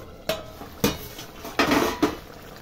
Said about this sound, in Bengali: এবার আমি ঢাকাটা খুলে দেখি।